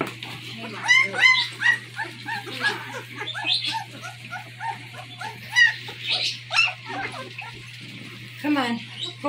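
Excited puppies whimper and yip in a rapid, uneven series of high, close cries, with a steady low hum underneath and a voice talking over them.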